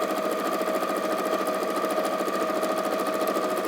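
Sewing machine stitching fabric pieces together, a fast even mechanical whir with a rapid needle patter, steady and close throughout.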